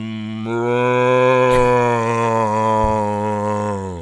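A person imitates a cow, holding one long, loud, steady moo for about four seconds, alone and close, with no other talk.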